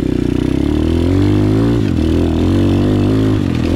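SSR 125 and Monster Joe 125 pit bikes are ridden on bumpy trails, their small engines droning loud and close with a steady buzzing note that dips briefly as the throttle eases.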